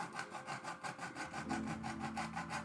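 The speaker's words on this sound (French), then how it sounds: "une scie à métaux avec laquelle vous devez découper les contours de notre futur couteau" Quick back-and-forth strokes of a hacksaw cutting through cardboard, a rhythmic rasping repeated about five times a second, close up and fairly quiet.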